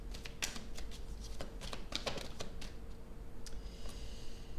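A deck of playing cards is shuffled and cards are laid down on a table during a reading, giving a run of quick crisp riffling snaps and light taps, close and clear over a steady low hum, with no talk.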